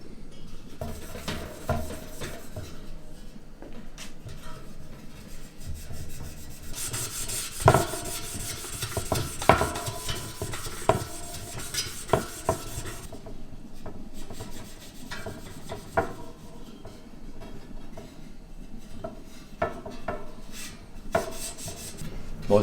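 Galvanized bicycle wheel spokes being scrubbed clean during a wheel restoration give a steady, close rubbing and rasping, with a louder, brighter stretch of scrubbing partway through and scattered clicks and knocks.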